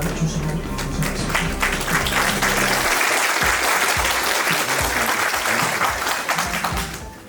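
An audience at a memorial academic seminar gives loud, sustained applause to welcome the bereaved family, a dense wash of many hands clapping that continues for several seconds before fading at the end.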